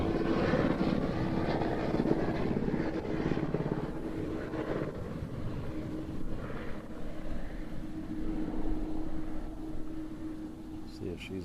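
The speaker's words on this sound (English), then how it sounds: "There's a Rainbow Love Copter right there." A helicopter passes near Honolulu airport, a steady rotor and engine drone holding for the whole stretch at moderate loudness, swelling slightly, with a faint voice in the background.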